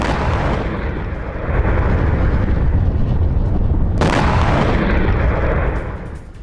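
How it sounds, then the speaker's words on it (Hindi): A drone strike hits Kharkiv, making loud, continuous rumbling explosions with a sharp fresh blast partway through and a dense roar filling the scene. "खार्कीव में ड्रोन स्ट्राइक से तबाही मच गई।"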